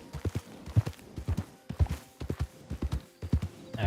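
A horse gallops in the western video game Red Dead RP, with quick rhythmic hoofbeats in clusters, close and fairly loud, a brief snort near the end and no talking.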